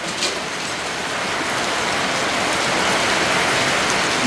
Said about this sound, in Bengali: একদম ধুম বৃষ্টি নামছে ঝড় বৃষ্টি